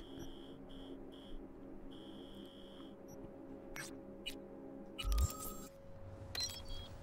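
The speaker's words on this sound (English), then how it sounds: "Beep beep." Electronic beeping in the video game Cyberpunk 2077: a run of repeated high tones, short and then longer, followed by a few sharp clicks and a louder burst, with a steady hum underneath.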